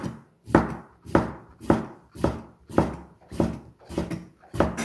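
A knife slices thin rounds of autumn radish on a board, eight heavy, regular cuts each ending in a firm thud, close and fairly loud with short pauses between strokes and no speech.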